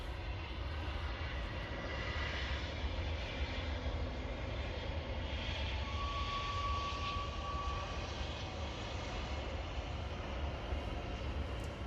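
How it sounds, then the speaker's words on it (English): A Boeing 787 Dreamliner takes off from runway 8 left at Munich, giving a continuous deep, broad jet roar that holds steady and fairly distant throughout. "We're going to have our first Dreamliner taking off on 8 left."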